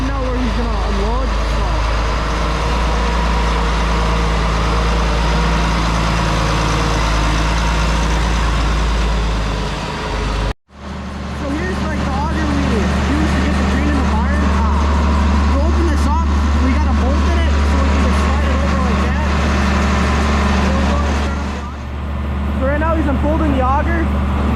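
A truck hauling a feed grinder rumbles and idles close by as it pulls in to unload ground feed for heifers, with a steady low engine drone, a brief cutout midway, and voices talking over it throughout.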